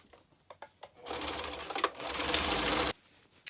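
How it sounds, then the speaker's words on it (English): A home sewing machine runs a zigzag stitch back and forth across layered fabric while assembling clown lolita bloomer pant legs, a steady whirring burst of about two seconds after a few soft clicks and handling taps, with no talk. "zigzag stitch a few times across, back and forth"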